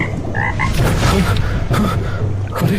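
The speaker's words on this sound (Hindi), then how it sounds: "तभी पीछे पानी में हल्की टर टर की आवाज हुई।" A cartoon-style green frog croaks in water, several loud close croaks in quick rhythmic bursts, with a brief exclamation from a voice.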